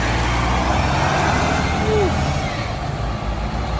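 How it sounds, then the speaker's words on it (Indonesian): A Volvo B11R engine rumbles steadily on a full Epa Star passenger bus, a loud, continuous low drone heard from inside, with faint voices in the background. "Bunyi mesinnya Volvo."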